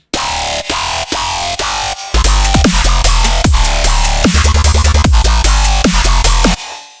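Heavy processed synth stabs, first a few plain hits, then a denser, louder burst of distorted bass notes with sharp downward pitch drops in a quick rhythm.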